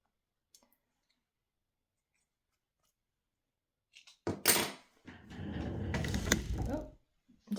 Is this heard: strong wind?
no